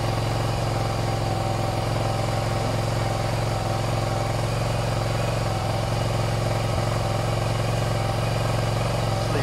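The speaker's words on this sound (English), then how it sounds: "Let's leave that idling for a little while." A Suzuki SV650 motorcycle engine idles steadily nearby, a constant loud mechanical hum and vibration with no change in revs throughout.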